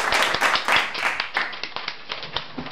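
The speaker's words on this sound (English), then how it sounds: "Let's applaud her." A small audience claps to welcome a guest interviewee, a Chicago resident named Vivian, with a dense burst of claps that thins into a few scattered, tapering claps.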